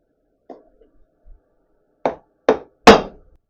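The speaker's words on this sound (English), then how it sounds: "trying to drive this out with a hammer and a homemade punch just wasn't going to work" Hammer blows on a homemade punch driving a taper pin out of an Adcock & Shipley mill feed gearbox: a couple of light taps, then three sharp, loud metallic strikes at a steady rhythm, each harder than the last, with no talking.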